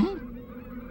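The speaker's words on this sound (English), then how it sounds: "I think it's the birds." A single loud goose honk, close and brief, fading into a low murmur of background noise.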